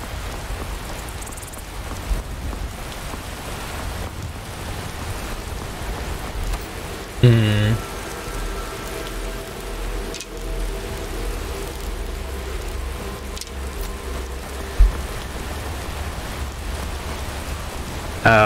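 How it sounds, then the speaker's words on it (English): Steady rain falls through the Skyrim game world, a constant wash of hiss with a couple of brief sharper knocks, and no talk over it. "Oh, it's starting to rain."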